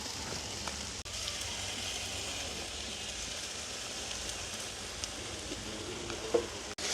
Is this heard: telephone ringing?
no